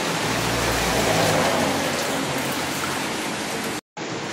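Steady, dense rain hissing down on a surface, continuous and fairly loud, with a brief cut near the end.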